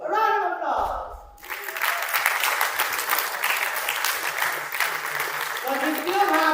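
An audience at the WFV Conference in Bled, Slovenia bursts into steady, full applause that lasts several seconds, with a voice speaking just before it starts and again as it fades.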